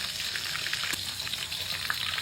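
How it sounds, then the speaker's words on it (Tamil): Two boiled fish fry in hot oil in a pan, giving a steady, dense crackling sizzle with brief louder pops, close and continuous without any talking. "இப்போ அதில் 2 அவிச்ச மீனை பொரிச்சுக்கிறேன்."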